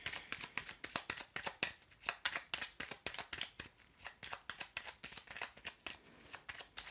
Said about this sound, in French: On va remettre une carte ici.